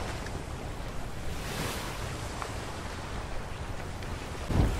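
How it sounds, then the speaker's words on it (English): A sailing ship moving through water in the video game Atlas, a continuous wash of waves and wind rushing past the hull, steady and fairly loud, with a brief thump near the end. "Okay, we've got wind in the sails now."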